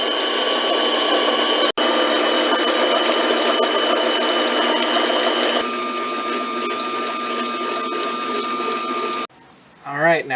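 A milling machine takes light 0.03-inch passes across a large metal spinning top, giving a steady, loud, dense mechanical whir with a constant tone that drops in intensity midway and cuts out near the end.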